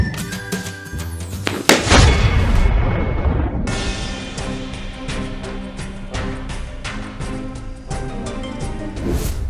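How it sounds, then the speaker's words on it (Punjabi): A firecracker-style birthday cake candle bursts out with a sharp pop, followed by a loud sustained crackling spray that continues to the end. "ਇਹ ਜੋ ਤੇ ਪਟਾਕਾ ਨਿਕਲ ਆਇਆ ਵਾ ਉਹ ਵੇਖ ਲੈ ਜੀਤੇ"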